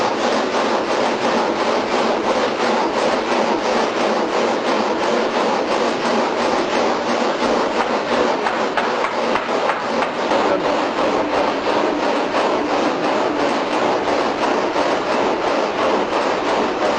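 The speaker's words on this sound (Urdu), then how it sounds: "یہ ایک خاص قسم کی مشین ہے جس پہ لوہے کی آریوں کا پورا گینگ ایک ساتھ کٹائی کرتا ہے" A gang saw machine, an array of steel blades cutting large marble blocks together, grinds loudly and steadily with a dense, rasping texture that barely varies across the whole stretch, with no voices over it.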